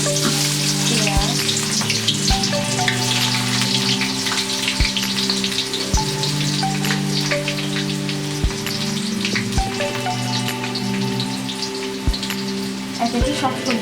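Onions sizzle steadily in hot oil for fried rice, a dense, close crackle with occasional sharper pops, continuing without pause and without talking.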